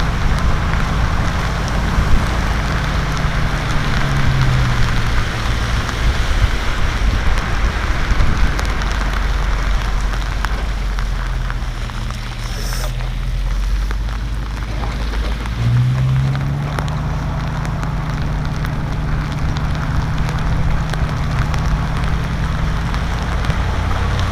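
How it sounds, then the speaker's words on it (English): Rain falls steadily in Venezuela, a dense, loud hiss that runs throughout, with a low rumble underneath and a faint tone that rises and falls in pitch partway through. "And today we're having rain."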